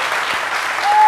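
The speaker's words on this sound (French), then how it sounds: "Alors, est-ce qu'on peut applaudir Paterne?" Studio audience applause for Paterne Assémian on a TV talk show, a brief dense burst of clapping that swells slightly at the end.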